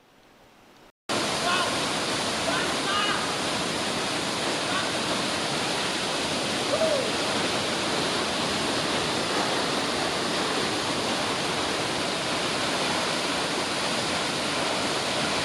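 Twin waterfall on Mount Pangrango, a loud continuous roar of rushing water that sets in abruptly after a brief quiet moment and holds steady and close, broadband and unbroken.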